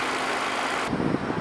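The 1.5-liter inline-four engine of a 2016 Chevrolet Malibu idles with its hood open, a steady low rumble and broadband hiss that shifts tone partway through, heard close up with no talking.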